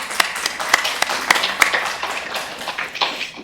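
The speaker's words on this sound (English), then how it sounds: "Let's give a round of applause to our tech speakers." A small group in a weekly project meeting gives sparse, uneven clapping, individual claps audible and fading within a few seconds.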